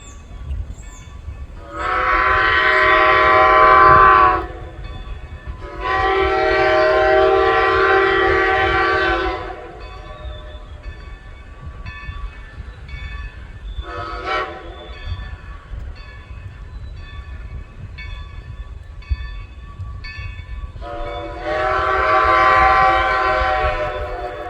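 A steam locomotive whistle sounds in several long blasts with pauses between, one short toot in the middle, over a low rumbling background.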